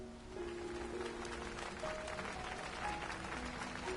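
Crowd applause in the Final Fantasy 14 game, at the ceremony for Sir Emeric's investiture in Ishgard: steady dense clapping with a faint game tone underneath, holding even and moderately loud for the full length.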